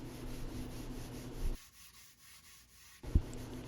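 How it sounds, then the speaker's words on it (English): Sandpaper rubbing over the painted surfaces of a wooden mid-century modern table, heard as a faint, close scratchy rasp in strokes, pausing for a second and a half before resuming briefly. "So now I'm going to sand the painted surfaces"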